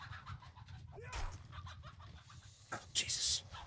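In a video game, a chicken clucks faintly in short bursts, with a sharper squawk near the end, heard among low background noise and some voice.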